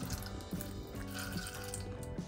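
Water is poured and built up on a surface treated with a superhydrophobic coating, giving a soft, close trickling and splashing with small repeated drips and gurgles.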